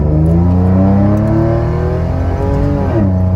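A 3800 V6 Pontiac Firebird with a glasspack muffler revs hard and loud up close, the engine note rising steadily as it winds out, then briefly dropping before climbing again.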